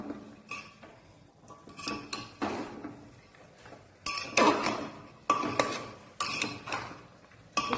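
A spoon stirs lentils with turmeric and salt in a metal pot, making irregular clanks and scrapes against the sides in short bursts, separated by quieter gaps.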